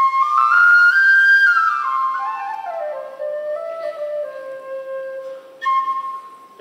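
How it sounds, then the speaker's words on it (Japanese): Tin whistle, an Irish folk instrument, playing a bright, breathy melody that slides and steps downward, close and fairly loud with no talking. "こちらですね、チンホイスルと言いまして、"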